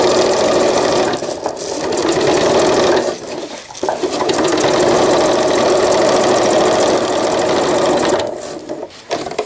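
A sewing machine stitches cased elastic on a diaper cover, running in long steady bursts with two brief pauses where the motor drops out.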